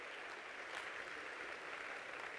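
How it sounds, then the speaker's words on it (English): A seated audience claps together in a hall, a dense and even patter of many hands that holds at a steady level throughout without any speech over it. "Give them a round of applause."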